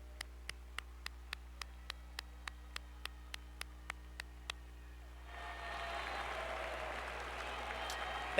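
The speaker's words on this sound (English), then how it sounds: "please stand and remain standing to be recognized by our applause" A commencement audience at Winthrop University applauds graduates' families; regular ticking clicks come first, then a broad, distant wash of clapping rises and holds steady, faint and without voices.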